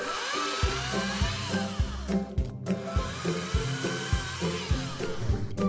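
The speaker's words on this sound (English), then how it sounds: "Dad will use his chainsaw to cut away the trees blocking our way." A chainsaw cuts through trees blocking a farm trail, its motor buzzing steadily with repeated sharp bites and revving pulses at a moderate distance.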